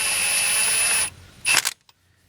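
Impact wrench with a 3/4 socket snugging carriage bolts while replacing a hydraulic wheel motor on a stand-on mower, one loud sustained whir that stops, then a short burst of hammering before silence.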